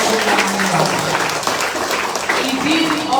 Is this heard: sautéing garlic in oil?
no